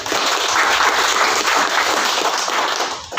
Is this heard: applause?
yes